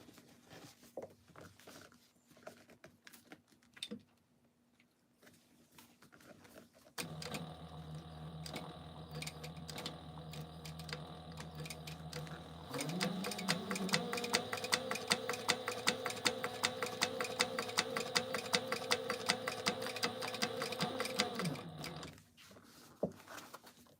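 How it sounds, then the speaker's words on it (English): A sewing machine top-stitches a plaid basketweave tote bag, running steadily for about fifteen seconds with a rapid mechanical patter that speeds up midway, after quiet handling sounds at the start. "All right, we're gonna top stitch this now."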